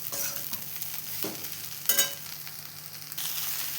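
Gongura leaves frying with salt in a pan, a close, continuous sizzle broken by a few scraping stirs of a spatula, with no voices.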